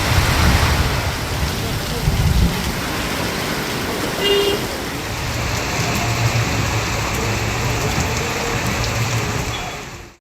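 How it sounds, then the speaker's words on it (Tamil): Steady rain falls on a waterlogged road in a Tamil Nadu district, a dense continuous hiss with traffic rumbling faintly underneath and brief louder splashes throughout. "பல பகுதிகளில் மழை பெய்தது"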